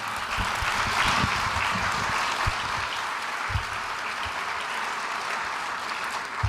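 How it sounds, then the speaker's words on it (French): Audience applause at a political party congress for the headquarters team, a steady dense wash of clapping sustained for several seconds at moderate distance, with a few louder individual claps near the end. "Merci de les applaudir"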